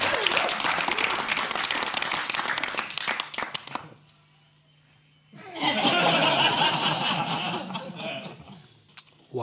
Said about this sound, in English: That's some post-Easter applause right there.